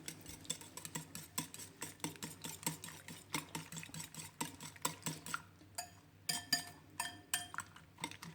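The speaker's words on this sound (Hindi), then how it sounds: "अब इसको हम फेंट लेंगे।" Fork or whisk beating eggs with salt in a bowl for an omelette, a quick, steady clinking and scraping rhythm, close and fairly quiet, with no talking.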